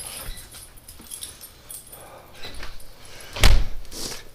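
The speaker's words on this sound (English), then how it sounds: "Come on, dog." A dog comes outside on a cold winter night, with faint shuffling and soft movement before a sharp door bang late on, followed by rustling.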